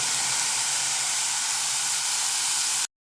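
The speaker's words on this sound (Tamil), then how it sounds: "இப்போ நான் தக்காளியை ஆட் பண்ணி வதக்கிக்கிறேன்" Onion and tomato sautéing in a pan for chicken seekh kabab masala, a steady, close, broadband sizzle and hiss that holds evenly for nearly three seconds before cutting off abruptly.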